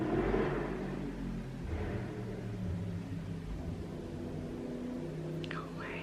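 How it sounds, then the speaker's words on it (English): Traffic outside an open window on a warm day, cars rumbling and swelling past at a distance as low, faint road noise, with a quiet voice speaking over it. "sorry if you can hear the cars outside"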